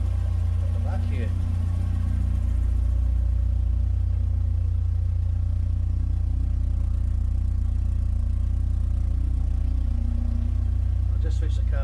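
A car engine idles steadily with a deep, constant low rumble, close and continuous throughout, while a person talks over it now and then.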